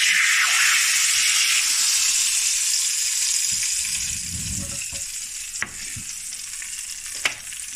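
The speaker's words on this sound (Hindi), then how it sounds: "अब इसके ऊपर हम बघार लगाएंगे।" Loud, hissing sizzle of spices tempered in hot oil over cooked daal, fading slightly over several seconds, with a couple of sharp clicks from the pan.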